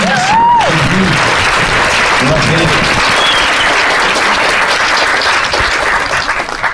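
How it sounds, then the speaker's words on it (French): A conference audience at the Toulouse Game Show claps loudly for voice actors on stage, a dense, steady roar of applause that lasts throughout, with a voice speaking over the opening seconds. "je vous demande un tonnerre d'applaudissements"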